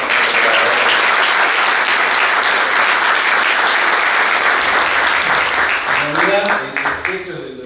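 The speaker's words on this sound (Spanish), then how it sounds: "yo les pediría un aplauso para los doctores" Loud, dense applause from a large audience at a labor conciliation and arbitration conference fills the room, clapping steadily before thinning out and fading near the end.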